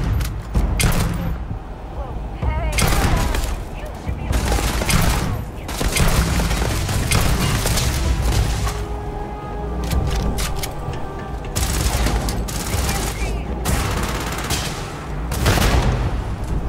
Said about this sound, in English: Using a lawgiver rifle and a well-placed grenade makes short work of these spacers.